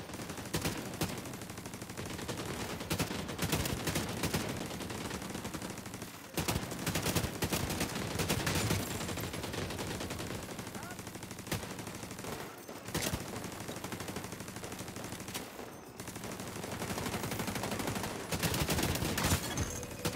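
Gunfire from The Division 2 on PC crackles in rapid bursts and sustained automatic volleys, loud and close, with brief pauses between strings of shots.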